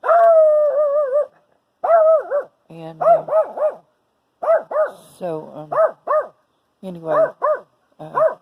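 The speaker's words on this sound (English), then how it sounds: "someone's walking up the road and the dogs are barking at them" Dogs bark in quick, yelping bursts with a few drawn-out howling notes, loud and close, at someone walking up the road, and a voice speaks briefly at the start.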